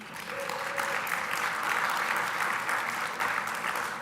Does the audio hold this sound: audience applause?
yes